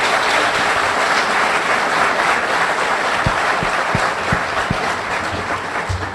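Sustained applause from a candidate forum audience, a dense steady wash of clapping from a crowd with a few sharper low thumps scattered through it.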